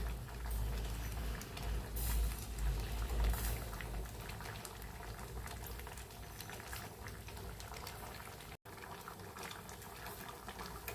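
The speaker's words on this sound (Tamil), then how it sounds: "நல்லா கொதிக்கட்டும் கொஞ்ச நேரம்." A pot of jackfruit-seed and brinjal sambar bubbles and simmers steadily, a close, continuous gurgling and hissing of boiling liquid with no voices.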